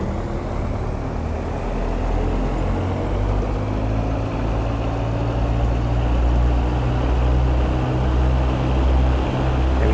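A Robin DR400 light aircraft's engine holds a steady run-up at 2000 RPM in X-Plane 11, a constant droning hum with a low buzzing propeller tone, loud and unchanging.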